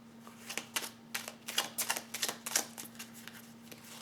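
Oracle cards being handled and drawn from the deck, a series of light, irregular papery ticks and flicks close by over a faint steady hum, no voices.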